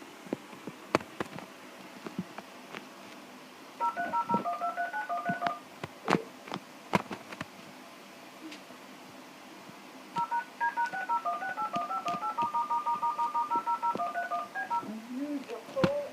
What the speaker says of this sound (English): your alarm telephone is dialing for assistance